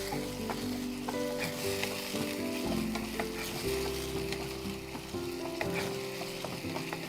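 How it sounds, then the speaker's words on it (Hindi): Yogurt being stirred into a hot, sizzling gravy, a dense steady frying hiss close by with a droning hum underneath and small scrapes from the spoon. "दही डालकर मिक्स कीजिए।"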